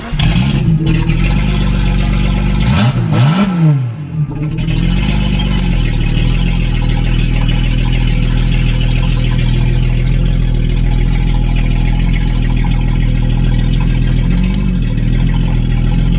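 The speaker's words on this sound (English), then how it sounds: "It actually started hitting on that injector that was missing, so we're going to take it around the block." Datsun 280Z engine running steadily as the car drives around the block, a loud, close, continuous drone with a brief dip and revving shift early on, no voices.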